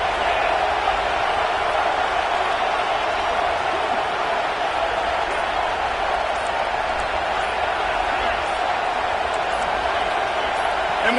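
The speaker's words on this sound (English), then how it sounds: "And with this place rocking, the crowd forces a false start." A packed college football stadium roars steadily, a continuous wash of crowd noise rocking the place during a South Carolina versus Texas game, loud and unbroken throughout.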